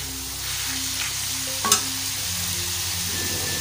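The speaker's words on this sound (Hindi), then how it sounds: "अभी हम इसमें सब मिर्च डाल देते हैं।" Boneless tawa chicken sizzles steadily on a hot griddle as chillies go in, with a brief sharp clatter partway through and continuous frying hiss throughout, no voices.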